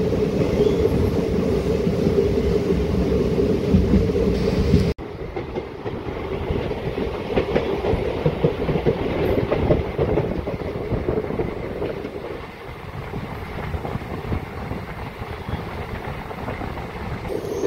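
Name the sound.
DEMU local train running on tracks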